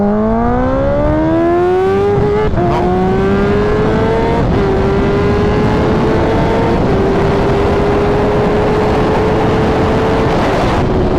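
A tuned, ECU-flashed, dyno-tuned Kawasaki Ninja H2 motorcycle accelerates hard through the gears, its engine note climbing in loud rising sweeps with brief dips at each shift, under rushing wind.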